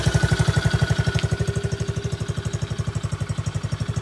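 X-pro Bolt 110cc motorcycle engine idling after starting with the carburetor choke, a steady close putter of rapid even pulses throughout.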